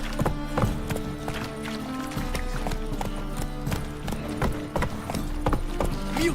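Roach, the horse in The Witcher 3, gallops with quick, steady hoofbeats through a city, clattering loudly over game music and ambience.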